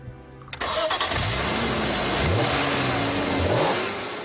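A BMW M3 engine rated at 340 horsepower, fitted in a Hartge 3.3 3 Series Compact, starts abruptly and revs through rising and falling sweeps, loud and close, with no talking.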